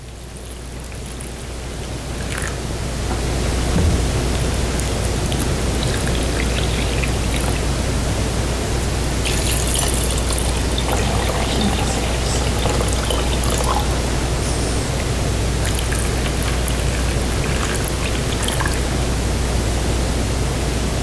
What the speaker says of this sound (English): What happens as I pour this water into these containers?